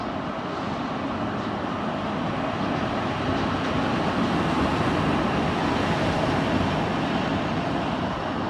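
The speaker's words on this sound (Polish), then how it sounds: "Jedzie Luzak, lokomotywa EU07030, bardzo niska numeracja." An EU07 electric locomotive, number EU07-030, running light through Wrocław Główny station, a steady loud broadband rumble and rail roar sustained throughout without talk.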